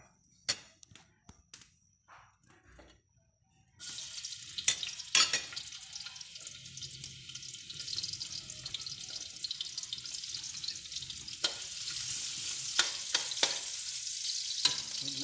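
Sliced ginger hitting a little hot oil in a pan for Ilocano-style chicken tinola, bursting into a steady, close sizzle after a few quiet knocks and clatters, with sharp crackles and utensil scrapes over the frying.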